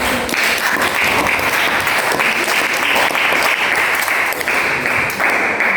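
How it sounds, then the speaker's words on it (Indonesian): A classroom of students breaks into steady, loud applause after a school economics practical exam presentation, sustained clapping filling the whole stretch with no talk over it. "Aplaus dulu."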